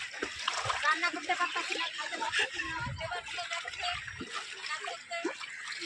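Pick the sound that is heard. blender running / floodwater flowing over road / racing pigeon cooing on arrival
floodwater flowing over road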